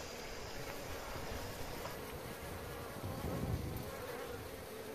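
Honey bees buzz around their beehive in a dense, continuous drone that stays close and steady throughout, with no voices.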